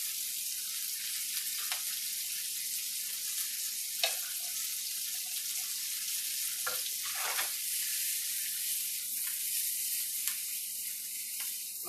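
Kale hits a hot pan on the stove and sizzles in a steady, hissing fry, with occasional clinks and stirring clatters scattered through, close and continuous with no talking.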